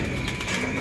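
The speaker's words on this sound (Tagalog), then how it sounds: "Ang ating mga ibon." Pigeons coo in a soft, continuous murmur close by, a low rolling burble filling the short moment without any voices.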